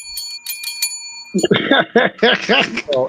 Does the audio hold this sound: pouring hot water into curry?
no